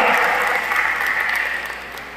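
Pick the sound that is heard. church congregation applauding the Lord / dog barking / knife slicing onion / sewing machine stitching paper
church congregation applauding the Lord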